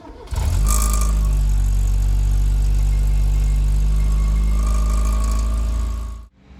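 Steady, loud low drone of a Fiat Uno Mille engine while driving, a deep constant hum heard from inside the car that holds for several seconds and then cuts off abruptly.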